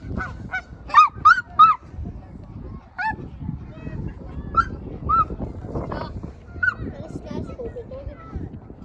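Large geese on open water give repeated loud honks in short bursts, several close together near the start and more scattered through the rest, over steady outdoor background noise.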